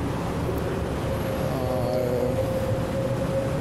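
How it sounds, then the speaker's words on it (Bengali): An LRT train in Malaysia approaches a station platform with a steady, loud rumbling hum and a rising whine, with no one talking. "আর দেখতে পাচ্ছি গমবাকের ট্রেনটা অলরেডি চলে আসছে।"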